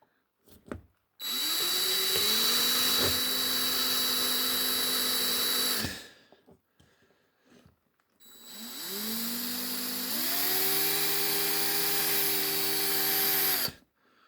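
A power drill bores out rivets on a Corgi Batmobile model in two long, loud close bursts, its whine rising as it spins up, with a brief pause and some handling clatter between them.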